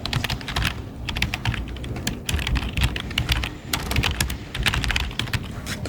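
Typing on a computer keyboard: rapid bursts of close, crisp key clicks with short pauses between words, continuing steadily throughout with no speech.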